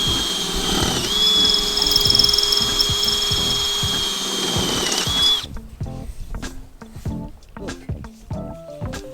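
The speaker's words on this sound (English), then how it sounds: "It really didn't feel right drilling big holes in my roof like this." A power drill whines loudly and steadily for about five seconds boring big holes in a roof, its pitch dipping briefly, then cuts out, leaving a person talking.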